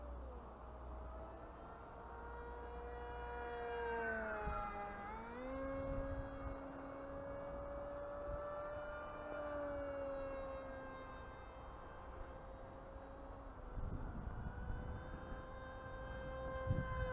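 An Atomic RC Dolphin electric model plane with a 2450 kV motor flies on its hand-launched maiden flight, its steady whining drone rising and falling in pitch as it passes, with a louder swell near the end.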